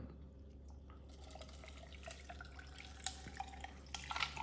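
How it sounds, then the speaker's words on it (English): Water is poured over ice into a Yeti tumbler, a faint trickle that builds into light splashing and small clinks of ice, close but quiet. "Now I'm gonna add a little bit of water."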